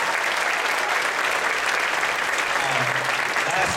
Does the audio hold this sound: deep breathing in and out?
no